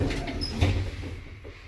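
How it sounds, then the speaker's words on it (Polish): The inner doors of a 2007 Krakdźwig elevator in a Kraków apartment block slide shut with a close rumbling glide that fades into quiet. "drzwi wewnętrzne się nie chcą... O, dopiero teraz się domknęły"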